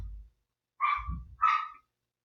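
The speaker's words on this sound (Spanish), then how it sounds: "si se escucha el perro" A dog barks twice in a home setting, two short, sharp, fairly close barks about half a second apart, with a low rumble between them and a brief low noise at the start.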